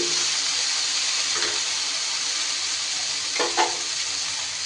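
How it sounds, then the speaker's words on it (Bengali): Chopped onion and potato fry in a pan with a steady, close sizzle, while a few soft scrapes of stirring break through the hiss. "এরই ওপরে দিয়ে দিচ্ছি কুচি করে রাখা পেঁয়াজটা আলু আর পেঁয়াজ একটু মিশিয়ে নিয়ে"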